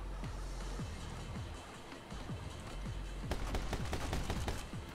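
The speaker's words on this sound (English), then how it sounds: "Oh, they've got machine guns." Rapid machine gun fire in the action shooter game My Friend Pedro, a steady stream of sharp repeated shots that thickens into a dense burst toward the end, with no talk.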